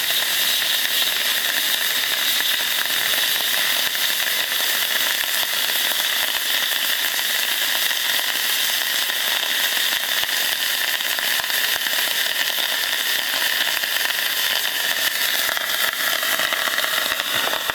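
Water tossed onto a glowing wood-fired sauna stove's steam generator sizzles and hisses continuously into steam, a loud, dense, steady crackling spray lasting throughout with no talking.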